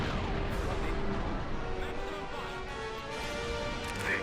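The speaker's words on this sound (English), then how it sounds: "with all the beautiful explosions we got going on here." Space battle explosions in the Empire at War Remake strategy game rumble continuously as deep, dense booms and crackling weapon fire, with talking faintly mixed in.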